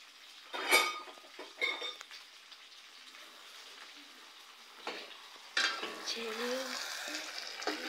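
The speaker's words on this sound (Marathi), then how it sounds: "इथं असं मी मसाला परतून घेणार आहे आता" Masala stirred and sautéed in oil in a pan, a soft sizzle under clattering spoon strokes against the pan, quiet with a few sharper scrapes.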